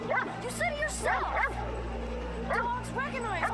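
Dog yips and barks from a Goosebumps episode, short whining bursts in quick clusters, fairly close, set over a steady low hum and background voices.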